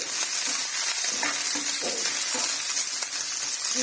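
Onion, green chilli and carrot sizzle in hot oil for Andhra-style semiya upma, a steady bright frying hiss with occasional soft scrapes and stirring clicks, close and continuous.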